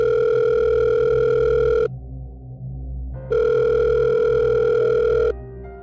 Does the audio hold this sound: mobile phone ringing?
yes